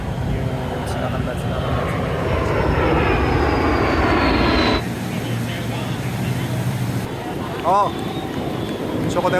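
An A-10 Warthog military jet passes over a beach air show at Cocoa Beach, Florida. A loud, windy engine roar with a falling whine sweeps past, then fades, while voices murmur faintly in the background.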